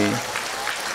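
A brief burst of audience applause at an Indonesian religious talk, under a moment of voice at the start and then a soft spread of clapping.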